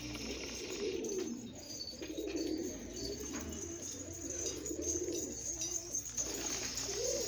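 Domestic pigeons, including a red sanfour pigeon, coo softly in a loft, with repeated low rolling coos rising and falling over about seven seconds against faint background noise.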